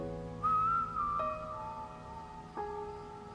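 A melodic whistle from the BTS Wings short film, with one clear sustained note that bends and then settles into steady held tones over a soft tonal background. Two brief accents mark the changes, and no one speaks.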